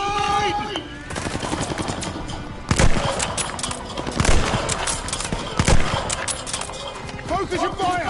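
Machine gun fire rattles through a battle in the Vanguard video game campaign, with repeated bursts and sharp shots under shouted voices.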